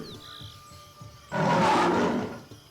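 A lion's deep, rough roar swells up suddenly from a quiet background, holding loud for about a second before trailing off.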